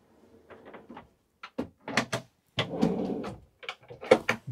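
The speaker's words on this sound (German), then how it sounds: "Großzügige Schubladen an der Küchenzeile" Kitchen drawers with push-lock catches and divider compartments in a Mooveo 70 EB motorhome are opened and shut repeatedly, giving a string of close, sharp knocks and sliding thumps with short pauses between them.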